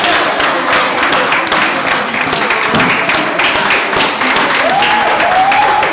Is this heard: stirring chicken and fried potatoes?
no